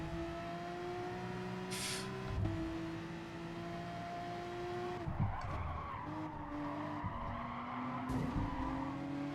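Race cars revving and squealing tyres at the start of a race in the video game Gran Turismo Sport, a steady engine drone with shifting pitch and skidding bursts, heard fairly quietly with no talk over it.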